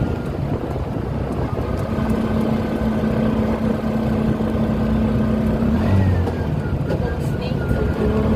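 Motorbike ridden along a winding country road in the rural Philippines, a loud steady engine drone mixed with wind rush, the pitch shifting slightly as it rounds bends, with talking over it.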